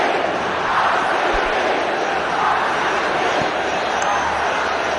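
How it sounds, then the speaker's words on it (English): Crowd at a cricket stadium during the 2016 IPL final, a broad, steady roar of thousands of spectators, loud and sustained throughout with no clear breaks. "Crowd behind the home team."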